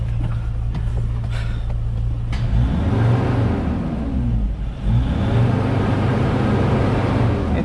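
A 2005 Mercedes Sprinter van with low compression and a suspected leaky fuel injector, stuck in limp mode, steady low engine drone that rises as the accelerator is pressed, swelling twice in a close, continuous rev with no talking.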